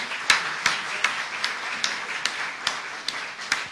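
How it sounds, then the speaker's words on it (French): Sparse, scattered clapping from a panel audience, a handful of distinct claps spaced irregularly rather than a full ovation, moderately quiet with no talk. "Je vais vous demander de vous applaudir très fort pour vos contributions."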